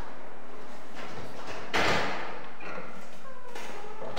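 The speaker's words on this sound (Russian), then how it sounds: "Вот эти бесконечные двери, очень тяжелые, бились." A heavy door in an apartment building corridor bangs shut with one loud, close thud at about the middle, set against a steady room hum with faint knocks before and after.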